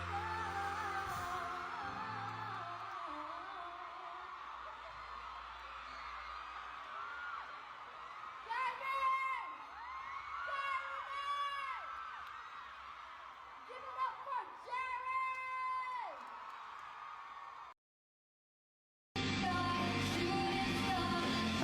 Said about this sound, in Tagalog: Grabe, ang lakas ng hiyawan